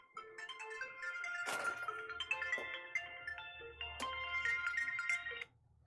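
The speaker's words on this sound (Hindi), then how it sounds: "प्रदीप अभी फोन कर रहे हैं अभी" Melodic phone ringtone announcing an incoming call, repeating a bright chiming pattern for about five seconds at moderate volume, with a couple of sharp knocks partway through, then stopping abruptly; no one speaks.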